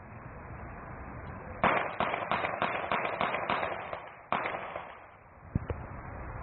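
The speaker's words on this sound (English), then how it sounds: "Listen for the moment when North Charleston patrolman Michael Slager shoots" A police officer's rapid gunshots in news footage from North Charleston, a burst of about eight sharp cracks in quick succession, a pause, then one or two more shots, loud and echoing outdoors.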